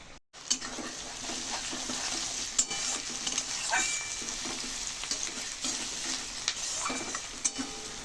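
Onion fries with ginger-garlic paste in a wok, a continuous soft sizzle broken by scraping stirs and occasional clinks of the spatula against the metal, close and moderately quiet.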